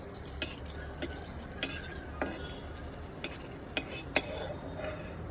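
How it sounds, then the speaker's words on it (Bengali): Two chillies frying in hot oil in a wok, a soft steady sizzle under a regular series of sharp spatula taps and scrapes about every half second, close and clear, no speech. "তেলটা একটু গরম হলে আমি দুটো লঙ্কা ফোড়নে দিচ্ছি।"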